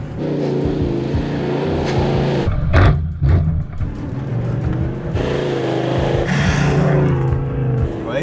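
A big V8 four-wheel drive revs hard on the sand tracks of the Simpson Desert: a loud, deep, throaty engine that surges and drops through repeated revs, and brief voices come in under the roar.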